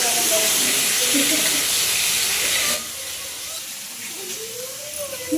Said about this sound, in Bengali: মাছ রান্না করছে